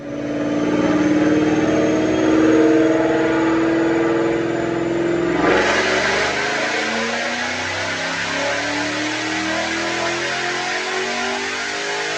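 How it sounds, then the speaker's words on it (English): A supercharged 2011 Mustang GT with a Roush TVS supercharger and manual transmission revs hard on a dyno pull, a loud sustained engine roar rising in pitch, then dropping into a rougher, burbling tone after the shift-off, close and unbroken. "Check out this dyno pull."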